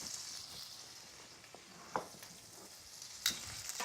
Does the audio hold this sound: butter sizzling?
yes